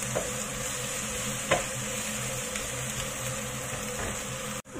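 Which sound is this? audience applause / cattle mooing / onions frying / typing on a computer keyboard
onions frying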